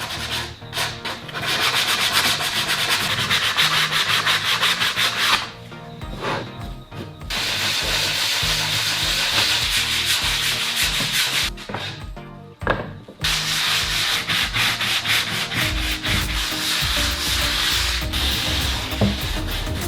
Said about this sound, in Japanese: 研磨していきます。